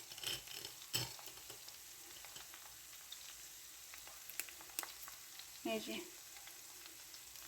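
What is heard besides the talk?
besan boondi frying in hot oil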